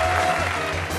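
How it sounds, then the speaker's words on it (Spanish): Short burst of applause for two women during a Galician game show session, a brief dense clatter of clapping with a little background noise and no clear speech. "un aplauso para elas"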